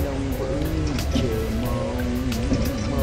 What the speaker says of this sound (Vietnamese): mưa quá mưa các bạn ơi